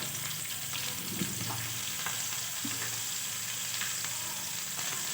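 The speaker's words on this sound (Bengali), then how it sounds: "জিরেটা ভাজা হয়ে যাক" Whole cumin, dried red chilli and garlic fry in a little oil in a pan, giving a continuous close sizzle with faint crackles and stirring scrapes and no talking.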